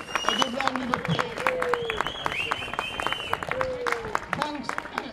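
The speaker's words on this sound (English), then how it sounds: "so everyone a good round of applause." Sustained clapping from an audience at an anti-austerity rally, a steady rattle of many hands with scattered cheers and a voice over the top.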